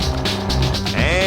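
Homemade turbine-powered boat pulling away from a start line, a loud steady engine drone with a rising whine near the end, heard close.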